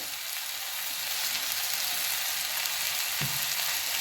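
Ambadi (roselle) leaf greens sautéing with salt in a pan give a steady, close sizzle that holds at an even level throughout, with only a soft thump near the end.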